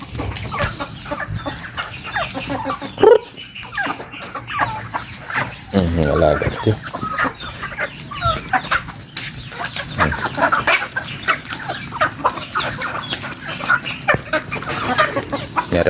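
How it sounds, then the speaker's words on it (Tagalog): Gamecock chickens cluck and murmur around a yard, short scattered clucks and a few louder squawks near and mid-distance, with someone briefly speaking among them. "Alam, sabot ang manok."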